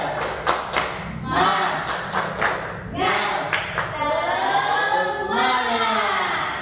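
Classroom of students doing a rhythmic chant-and-clap routine, bursts of patterned claps alternating with voices chanting together, close and lively.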